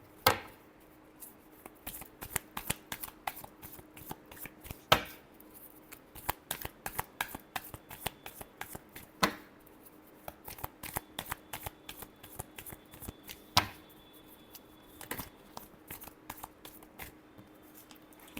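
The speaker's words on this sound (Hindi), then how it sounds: "last shuffle," A deck of tarot cards is shuffled over and over, producing quick, crisp papery riffles and sharp taps that come in irregular clusters, close and fairly quiet, with no voices.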